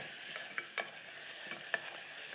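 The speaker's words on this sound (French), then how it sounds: "Je mélange. Donc là, je mets mon beurre." Butter dropped into hot caramel sizzles steadily while being stirred, a bright hiss with a handful of sharp utensil clicks against the pan, close and moderately quiet.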